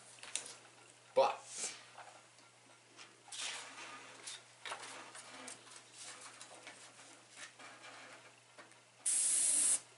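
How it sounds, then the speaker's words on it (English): Airbrush spraying paint in a short burst near the end, a steady loud hiss lasting about a second after a stretch of quieter handling noise and talk, with a slight sputtering edge. "You get a little sputter from the airbrush."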